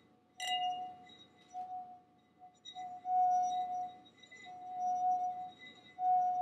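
Wine glass with a wide cup standing on a firm surface, rubbed to ring a steady, fairly low sustained note that swells and fades in waves after a sharp initial clink.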